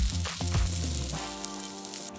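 Gnocchi sizzles and fries in a hot pan to a golden color, a steady close crackle with a few stir-like bumps and no talk.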